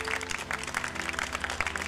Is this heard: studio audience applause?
yes